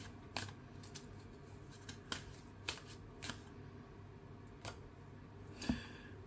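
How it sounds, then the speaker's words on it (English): Quiet riffling snaps of cards being shuffled, several short bursts spaced irregularly over a soft background hiss. "So, I will insist on shuffling some cards."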